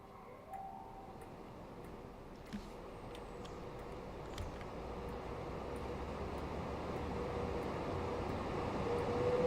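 A Pendolino train runs in a train simulator on the West Coast Main Line, a low, continuous rumble with faint whining tones that gradually grows louder, broken by a few soft clicks and knocks.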